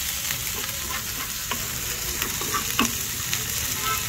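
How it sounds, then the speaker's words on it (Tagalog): Ginger sautés in a pan with a continuous bright sizzle broken by scattered spatula scrapes and clicks, close and steady with no talking. "Ginisa ko lang yung luya guys."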